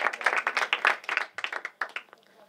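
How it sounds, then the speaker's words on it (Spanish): Audience applause at an outdoor storytelling festival in the Sierra, a burst of many hands clapping briskly for about two seconds, then thinning out and trailing off into a few scattered claps. "Un aplauso a Celeste."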